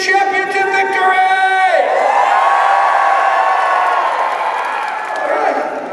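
Large arena crowd at a live jousting show at the PNE roars and cheers for the Canadian champion, a loud sustained wave of voices and whoops that swells and holds.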